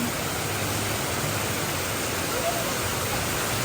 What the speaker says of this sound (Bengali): দেখো মা দেখো আহা কি সুন্দর বৃষ্টি হচ্ছে